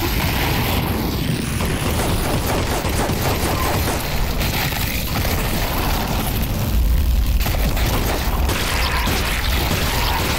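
Rapid gunfire and booming shots from the VR shooter Half-Life: Alyx, a dense, continuous barrage of loud bursts filling the whole stretch with no pauses.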